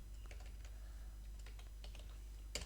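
Faint, sparse keystrokes on a computer keyboard while Python syntax is typed, a few scattered clicks with one sharper tap near the end over a steady low hum.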